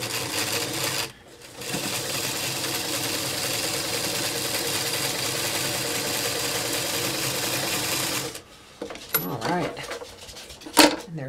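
Sewing machine stitching a quilt block seam for a puss-in-the-corner block: a continuous steady mechanical whir lasting several seconds after a short pause, then stopping, followed by softer handling clicks and rustles.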